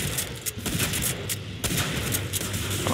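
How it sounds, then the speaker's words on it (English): Rapid gunfire in Killing Floor 2, a string of sharp loud blasts, some close and punchy, over busy combat noise with no pauses. "might as well switch to the shotgun since I have one"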